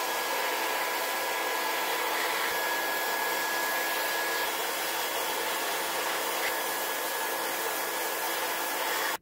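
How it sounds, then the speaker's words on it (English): A heat gun with a concentrating nozzle attachment, used on a PS3, blows hot air in a loud, steady, broadband roar with a faint constant whine. It runs unbroken and cuts off abruptly at the end. "I did put an attachment on my heat gun to kind of concentrate the heat more"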